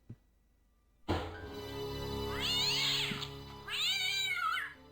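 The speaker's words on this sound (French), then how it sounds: "Est-ce qu'il y a encore un chat dedans?" A cat meows from inside a trash bin in the video game Broken Sword, two drawn-out whining meows over a loud sustained tone, close and prominent, with no one speaking.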